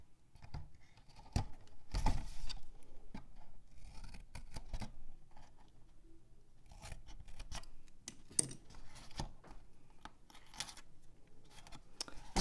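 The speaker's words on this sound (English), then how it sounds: "I'm just going to cut them at a slight angle." Scissors snip notches into the small tabs of a card note-card gift box, a series of quiet close crisp cuts and paper rustles in an otherwise quiet room.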